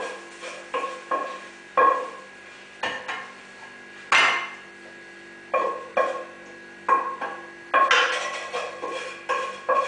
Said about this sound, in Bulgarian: Взимаме една чиния.